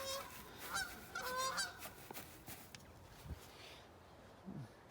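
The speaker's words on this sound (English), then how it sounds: "Pair of Canadian geese." A pair of Canada geese honk in a run of repeated, fairly close calls, followed by scattered softer noises and a few low thumps in a quiet setting.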